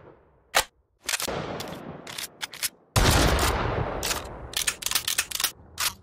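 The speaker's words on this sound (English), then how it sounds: "The AK sound effects were made with a telephone and a Nerf gun." Video game AK rifle gunfire, made from a telephone and a Nerf gun, comes as sharp single shots and then dense rapid bursts. Each report is punchy and close, with short gaps between volleys.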